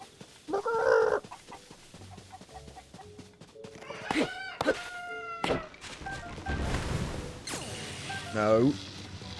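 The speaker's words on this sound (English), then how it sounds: "Don't electrocute the chickens." Chickens cluck and squawk in Zelda: Tears of the Kingdom, with loud bursts of clucking near the start and end, hoof-like clopping in between, and a voice talking at times.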